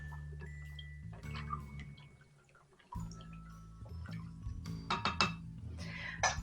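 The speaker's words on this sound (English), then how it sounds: "And now we are going to give everything a nice stir." Fermenting nuts are stirred in a jar, giving soft scraping and clinking taps of a utensil against glass, irregular and close, growing busier toward the end.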